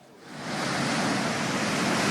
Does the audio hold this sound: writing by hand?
no